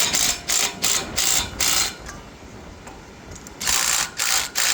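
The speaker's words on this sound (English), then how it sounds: "So I snug it down with the impact so that I could just tighten it in with the wrench" Impact wrench snugging down a bolt on a light pole damaged by a hurricane and a dumpster, a series of short buzzing ratchety bursts separated by brief pauses, close and fairly loud.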